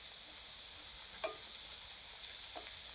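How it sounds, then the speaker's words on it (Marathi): Semolina (rava) stirred and roasted in a pan over medium heat, a soft continuous dry sizzle with a couple of faint spoon scrapes, close and quiet. "रवा सतत ढवळत राहायचा, खाली करपू नाही द्यायचा"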